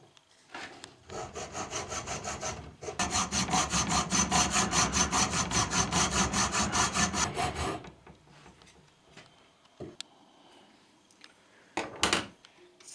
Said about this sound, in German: Wenn wir die Vorarbeit mit der Feilen gemacht haben, kommt jetzt die richtige.